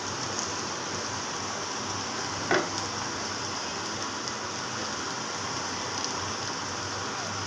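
Onion and minced garlic frying together in hot oil for a Bengali dried-fish (shutki) bhuna, a steady dense sizzle throughout with one brief sharper crackle near the middle, no talk.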